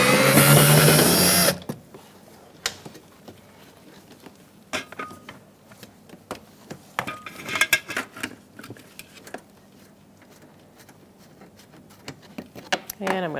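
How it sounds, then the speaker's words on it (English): A brief loud power-drill whir, then small clicks and taps as a Phillips-head screw is backed out of a 2002-2006 Toyota Camry front door during window regulator replacement, heard up close. "Using a Phillips head, we're going to take out this remaining screw."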